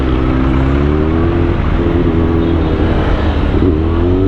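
A car driving through heavy traffic on EDSA, heard from inside as a loud, steady engine drone and road rumble with slight shifts in pitch as it moves.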